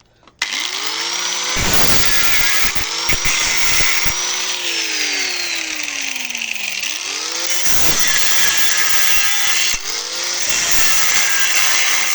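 An overheating angle grinder runs in loud, whining bursts that spin up, sag and cut out repeatedly, its pitch sliding down as the motor bogs, close and harsh with no talking.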